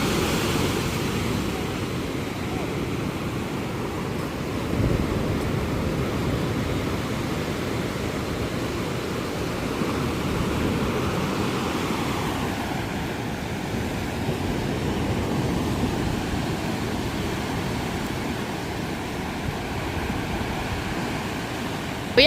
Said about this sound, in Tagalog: ang lakas ng agos na